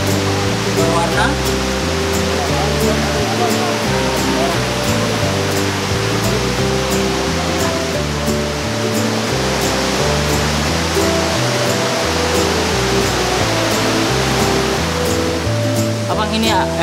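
Ninifala river in Tiliana village, Central Maluku, a loud continuous rush of flowing water filling the scene, with people talking over it.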